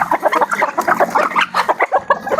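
Chickens cluck busily at feeding time, a close, continuous stream of short rhythmic clucks and murmurs from several birds with no talking.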